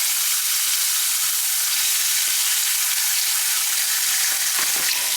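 Bacon frying in its own fat in a pan, a loud, steady, dense sizzle crackling close up without a break, a couple of faint scrapes near the end and no talking.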